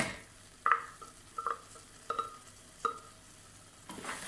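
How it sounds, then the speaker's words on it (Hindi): Potato, chickpea and yogurt paste stirred into fried masala in a pan, four distinct scraping stirs over a soft sizzle, close and otherwise quiet. "इसमें हम ये अपना पेस्ट, आलू, चने और दही वाला पेस्ट हम मिक्स कर देंगे।"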